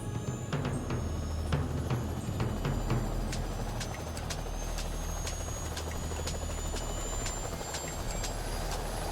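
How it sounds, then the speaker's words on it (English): A helicopter flies during a search for a rhino, its steady rotor drone and thudding blade chop holding a constant level throughout, with no voices. "I know Chimpanya will be scared when he hears the helicopter."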